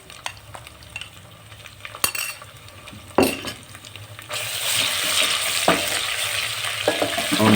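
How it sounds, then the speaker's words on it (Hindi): Ginger garlic paste hitting hot oil with golden brown onions in a pan, first quiet scraping and stirring clinks, then a loud steady sizzle that swells after a sharp clatter, close and without talk. "अब इसमें हम डालेंगे 2 चम्मच अदरक लहसुन का पेस्ट इंशाल्लाह।"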